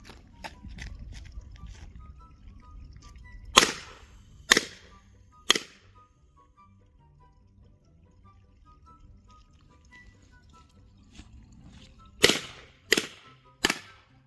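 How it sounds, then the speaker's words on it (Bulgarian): Six sharp firecracker bangs go off in two groups, three around the middle and three near the end, each a loud crack with brief ringing over faint background rustle. "Гърмим пиратки без кибрид"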